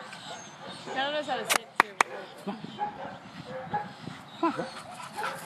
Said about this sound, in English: I love this dog.